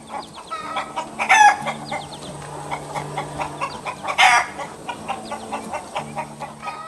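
Small chickens foraging in tall green grass cluck softly and repeatedly, with two louder, sharper calls standing out over a steady murmur of clucking.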